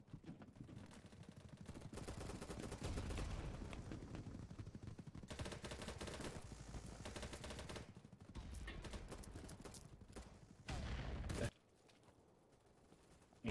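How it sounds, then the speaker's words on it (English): Rapid bursts of gunfire in the video game BattleBit Remastered, loud repeated automatic volleys with brief gaps, cutting off sharply near the end, with faint speech mixed in. "I'm being shot from across the way."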